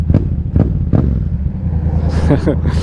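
A Yamaha MT-07 motorcycle engine idles with a low, throbbing rumble and three short revving bursts, close to the listener, with a few faint voices toward the end.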